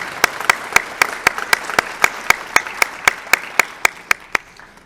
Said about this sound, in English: a hand clap.